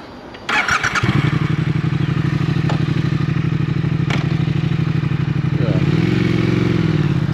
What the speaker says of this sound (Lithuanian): Šiaip moco garsas tai yra įspūdingas.